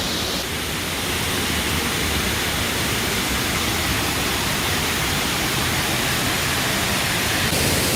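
Water pours through a hole above into a cave with a dense, continuous roar of falling water, loud and steady, with no voices.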